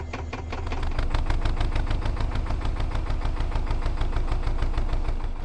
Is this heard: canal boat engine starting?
yes